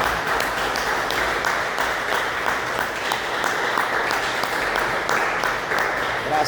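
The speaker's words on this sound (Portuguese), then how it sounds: "dê uma salva de palmas para Jesus" A church congregation bursts into steady applause that holds for several seconds, a dense, even wash of many hands clapping with faint voices mixed in underneath.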